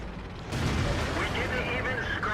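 IS heavy tank gun firing in World of Tanks, a sudden loud boom cutting in after a quiet start, followed by rumbling mechanical noise and engine drone.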